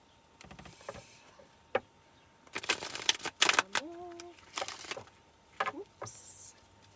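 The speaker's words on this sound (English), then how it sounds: "Let's do a few more shuffles and then we can get started." Tarot cards are shuffled by hand in several quick riffling bursts with pauses between them, close and crisp, along with a few faint vocal sounds.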